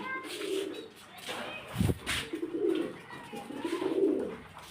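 Pigeons coo in soft, rolling bursts, several calls repeating across a few seconds, fairly close, with a brief rustle in the middle.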